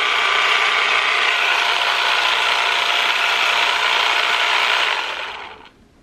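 A handheld electric massager runs on its lowest setting, giving a close, steady mechanical buzz that holds evenly for about five seconds and then winds down to silence.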